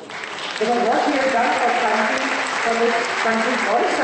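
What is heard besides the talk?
audience applause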